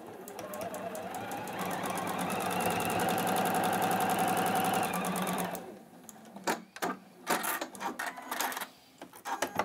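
A Juki HZL-NX7 sewing machine stitches a quarter-inch seam in one steady, fast whirring run for about five seconds, then stops, followed by scattered clicks and handling noises.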